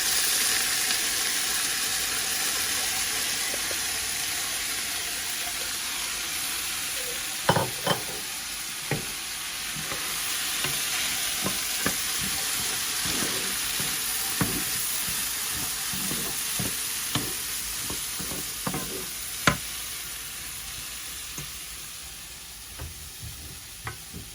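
Vermicelli and rice fry in butter for Turkish pilaf, giving a constant close sizzling hiss broken by repeated scraping and stirring taps of a spoon in the pan.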